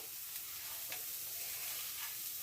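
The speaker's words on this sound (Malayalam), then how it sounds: "അരപ്പിട്ട് ഒന്ന് ഇളക്കണേ ഇളക്കി അരപ്പിൻ്റെ പച്ചമണം ഒന്ന് മാറ്റിയെടുക്കണം" Masala paste for a tender jackfruit thoran is stirred in a pan, giving a quiet, steady frying hiss with a few soft scrapes of the spoon.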